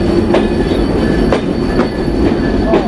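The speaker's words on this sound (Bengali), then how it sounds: "আমাদের লোকোমোটিভের ঢ্যাং ঢ্যাং শব্দ শুনতে যা জোশ লাগে না।" An express train's locomotive and carriages roll through Kotchandpur railway station in Bangladesh, heavy clanking wheel beats repeating at regular intervals over a continuous loud rumble, with no voices.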